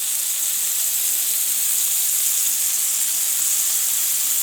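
A flipped burger patty sizzles steadily on a grill, a loud, even hiss of frying that holds without a break and with no one talking.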